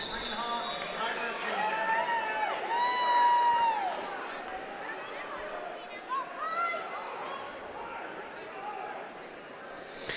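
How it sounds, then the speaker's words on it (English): A wrestling team cheers at a finals match in a gym, with crowd noise and shouts that swell around the middle and then settle, as people talk throughout. "the Delta Wrestling team getting into position to cheer for Kyler Jenkins here in this finals match"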